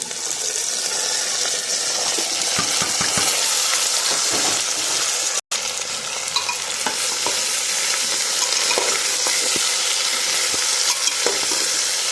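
Potatoes sauté in hot oil with cumin, dried red chili and a bay leaf, giving a loud, steady sizzle. A spatula repeatedly scrapes and stirs, and the sound cuts out briefly once.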